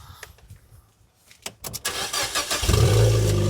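A rough, throaty car engine cranks with the key and catches, then settles into a loud, steady idle after a few quiet clicks and knocks.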